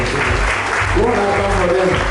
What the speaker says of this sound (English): Can we clap for that date?